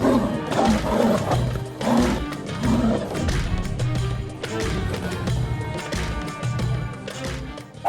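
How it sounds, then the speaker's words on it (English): Two tigers fighting, with repeated loud roars and snarls in bursts over thumping scuffles, close and continuous throughout. "Nobody wants to be the victim of a tiger attack, even a tiger."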